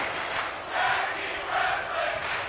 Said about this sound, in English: Crowd began chanting tag team wrestling.